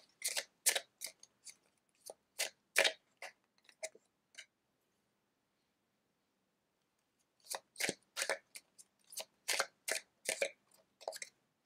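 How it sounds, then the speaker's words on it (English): Tarot cards are shuffled in two quick bursts of close, crisp riffling clicks separated by a few seconds of near silence, with no talking. "I'm just going to shuffle them and see what comes through about your finances a year from now."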